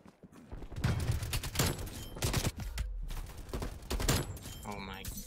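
Gunfire from an EM2 rifle in a first-person shooter, heard as several heavy, spaced single shots at a slow fire rate, mid-distance and fairly loud, with a brief mechanical rattle near the end.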